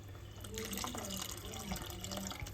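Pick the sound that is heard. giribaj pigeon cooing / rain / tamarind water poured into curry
tamarind water poured into curry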